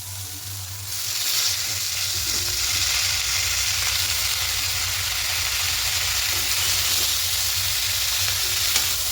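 Beto greens with turmeric frying in oil in a pan, a loud continuous sizzle that swells in after a quiet start and then stays steady, with occasional faint stirring scrapes and no voices.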